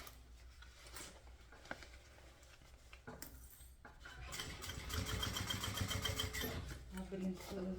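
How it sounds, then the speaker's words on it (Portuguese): A sewing machine stitches a straight seam on a fabric bag, first faint under quiet talking, then a steady, rapid mechanical whir that grows louder and continues to the end, close by. "Aí só costurando reto aqui."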